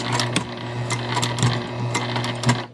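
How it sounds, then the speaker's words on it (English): Sewing machine back stitching through fabric, a close, steady motor hum with rhythmic needle taps and a few sharper clicks, no voices. "I have my needle down. We're going to back stitch."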